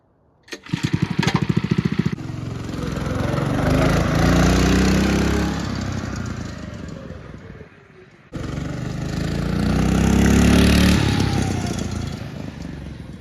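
A Predator 212 engine mounted in a Coleman B100 bike frame is pulled into life with a brief stuttering start, then runs loud and close, revving up and settling twice with a short drop in between.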